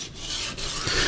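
A knife blade scrapes across a wet whetstone during freehand sharpening, making close, gritty rasping strokes with a brief break between two passes and no talking.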